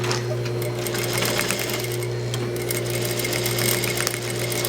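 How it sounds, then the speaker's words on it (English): A sewing machine stitches a dining chair slipcover, running steadily with an even mechanical whir and rapid needle chatter the whole time, close and loud, with no one speaking. "I'm going to stitch that"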